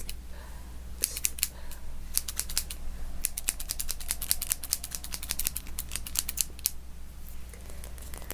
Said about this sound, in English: I'm just going to go ahead and take this little section of hair and just snip, snip, snip